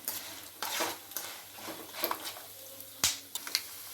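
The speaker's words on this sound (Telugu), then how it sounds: "పోపు కోసమని జీలకర్ర, ఆవాలు, శనగపప్పు, మినపగుళ్ళు, పల్లీలు, ఎండుమిర్చి వేసుకొని ఇలా ఆయిల్లో బాగా కలుపుకోవాలి." Cumin, mustard seeds, chana dal, urad dal, peanuts and dried red chillies stirred in hot oil, with light scraping clinks of a spoon against the pan and soft sizzling, one sharper knock near the end.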